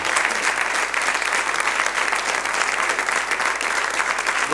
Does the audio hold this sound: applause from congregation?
yes